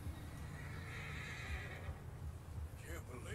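A horse whinnies with a rising, strained neigh in Red Dead Redemption, layered over a steady low rumble and soft hoof clatter, ending with a short fainter cry.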